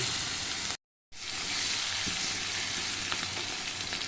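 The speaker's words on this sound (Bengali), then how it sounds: "মাছের তেলটা আছে তার মধ্যে আমি একটু শুকনো লঙ্কা দিয়ে দিলাম আর এই যে পেঁয়াজ দিয়ে দিলাম" Onion and dried red chili frying in leftover fish oil, a steady loud sizzle with a brief cut, crackling continuously up close.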